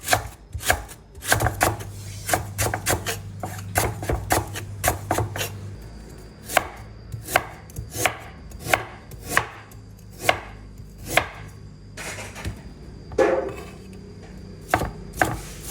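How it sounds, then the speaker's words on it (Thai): A knife chops through lemongrass stalks on a board in a steady series of sharp, evenly spaced thuds, close and loud, with no talking. "นี่หั่นตะไคร้นี่ก่อน"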